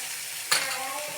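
Methi palya (fenugreek leaf stir-fry) frying in a pan, with a single soft sizzle and stirring burst near the middle, then low steady hiss.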